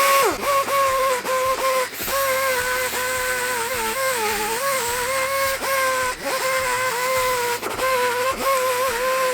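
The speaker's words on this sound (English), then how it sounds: "We got our bit on the grinder" A bit on a grinder relieves a Ford 302 engine block for oiling, giving a loud, continuous whirring grind that dips and surges repeatedly as the tool bites and lifts off the metal.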